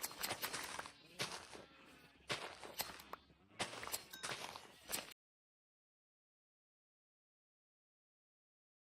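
Sheep in Minecraft bleat in several short bursts over soft footstep-like rustles, fairly close, for about five seconds before the sound cuts to silence.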